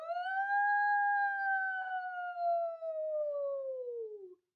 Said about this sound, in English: It's the fire truck with its loud siren.